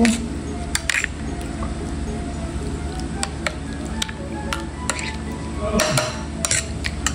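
A spoon stirs nipa palm vinegar dipping sauce in a bowl, making scattered sharp clinks and taps against the dish over a background of low, steady outdoor noise.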